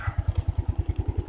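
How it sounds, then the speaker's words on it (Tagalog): A Yamaha Mio Sporty motorcycle engine runs close by with a steady, low, regular pulsing idle, with no voices over it. "Goods na yung motor mo."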